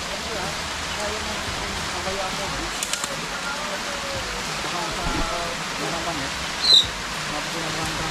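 Steady afternoon rain falls outdoors near a tamarind tree, a soft, even hiss that runs throughout at moderate level, with a brief sharp knock or bump near the end.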